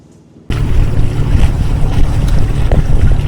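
A sailboat on open water under sail on a very windy night, loud wind buffeting the microphone over rushing waves and water. The roar starts abruptly after a quiet half second and then holds steady.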